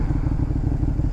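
A KTM 1290 Super Duke R motorcycle engine idles close by, a loud, steady, throbbing low rumble with rapid regular pulses and no voices.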